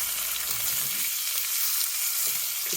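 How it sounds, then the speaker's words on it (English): Bacon strips fry in a pan over a gas flame, with a steady, bright crackling sizzle that holds constant throughout, close and fairly loud, with faint low knocks underneath. "Got a good sizzle, good aroma to this bacon over here"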